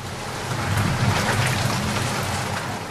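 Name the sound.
heavy rain falling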